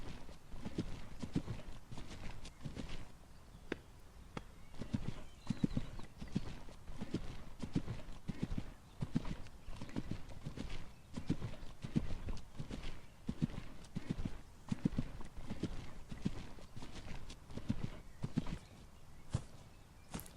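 Horse trotting in an arena, a steady run of rhythmic hoofbeats in clear two-beat cadence, fairly close and continuous, with no voices over it.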